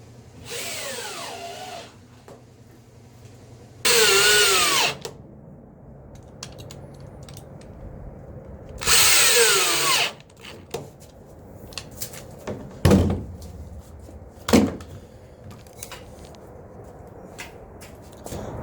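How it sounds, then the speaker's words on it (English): A power drill drives screws into the wooden chine log of a small sailboat under construction, with three loud bursts of whirring at close range, separated by quieter shop noise and a few sharp knocks and clatters. "I'm fine with putting some screws into that chine log apparently."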